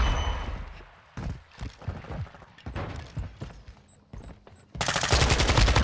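Rapid bursts of Kastov 74u automatic rifle fire in Modern Warfare 2, several short volleys separated by gaps, ending in a loud sustained burst, with no talk over them.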